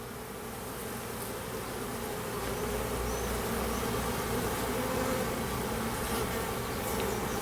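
Honey bees swarm over a hive frame during an inspection, a dense, continuous buzzing that stays close and loud throughout with no talk over it.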